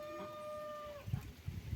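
Chickens clucking nearby in a farmyard: a short drawn-out call, then a series of low, choppy clucks.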